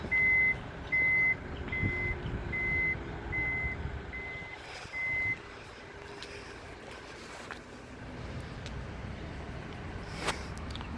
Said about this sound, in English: Power tailgate, indicate with the sound.